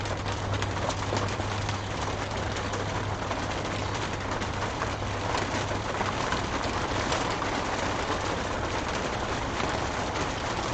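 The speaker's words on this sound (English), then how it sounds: "Tell me you can't hear that rain?" Steady rain falls outside with an even, continuous hiss and patter, fairly faint and with no one talking.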